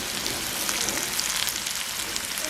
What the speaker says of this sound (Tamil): மிளகாயை நல்லா வதக்கு மட்டும் விடுவோம்